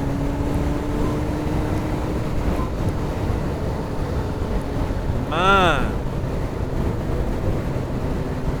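One quick rev of a Kawasaki ZX-9R motorcycle engine, running on expired vegetable oil, climbs and drops back over steady wind rumble outdoors, while someone briefly speaks.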